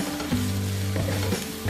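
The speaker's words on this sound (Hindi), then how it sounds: "जो एक अनियन हमने चॉप करके रखा था, इसको हल्का सा हम फ्राई करेंगे" Chopped onion sautéing in a hot pan for egg fried rice, with a steady close sizzle broken by a few scraping stirs, and no talking.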